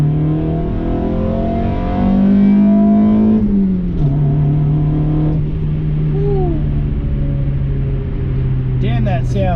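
A D16 car engine with its air filter removed revs up and settles, a loud close intake roar that climbs in pitch, drops back, and rises again in short blips toward the end.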